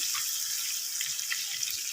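Water is poured into a pan of white urad dal frying on the stove, a steady close hiss and splashing with light crackle, continuous throughout at moderate level.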